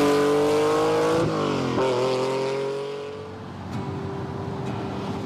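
A Lamborghini Countach engine revs hard with a loud, rasping note, climbing in pitch, shifting gear, then easing off as the car moves away.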